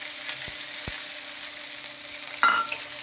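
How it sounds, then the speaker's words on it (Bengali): Dried and green chilies sizzle in hot oil, then onions drop into the pan and the frying flares up briefly into a louder hiss. A couple of soft knocks come first, and no one speaks. "তেল গরম হয়ে গেছে, শুকনো লঙ্কা একটা ফোড়নে দিয়ে দিলাম, কাঁচা লঙ্কাগুলো এর সাথে দিয়ে দিলাম। লঙ্কাটা ঠিকঠাকতে পেঁয়াজগুলো দিয়ে দিই।"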